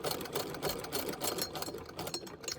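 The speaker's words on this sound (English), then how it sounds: "And I'm going to stitch up to that little slit." A sewing machine stitches vintage feedsack fabric for a coin purse at a short stitch length, a steady close mechanical whir with rapid rhythmic needle thumps and no talk.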